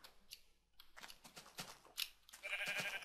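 Minecraft sheep bleating in a video game, a few short nasal bleats at moderate loudness among game sounds, with a brighter sustained bleat toward the end.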